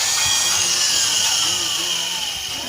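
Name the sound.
power drill drilling into a broken bolt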